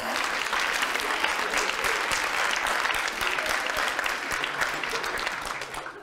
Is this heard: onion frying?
no